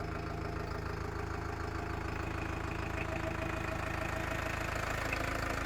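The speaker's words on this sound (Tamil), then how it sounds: "இன்ஜின் சவுண்டு பார்த்துருங்க எப்படி இருக்குன்னு" A Farmtrac 6055 Worldmaxx 55 HP tractor engine idles steadily and smoothly at close range, a constant low mechanical hum with no talking.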